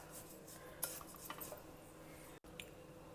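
A spoon mixes hing powder, salt, roasted mustard seeds and curry leaves in a metal bowl with light scraping and a few clinks of metal, quiet and close, with no voices.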